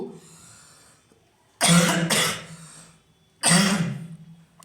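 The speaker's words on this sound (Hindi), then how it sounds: "खांसी भी आ जा रही है" Two bursts of harsh coughing close up, the first a quick double cough, the second a single cough after a short pause, over quiet background.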